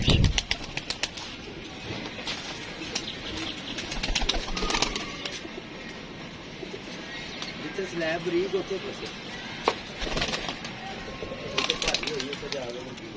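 Pigeons, young birds raised for flying, coo softly and flutter close by while someone talks over them almost throughout, with occasional sharp knocks and rustles.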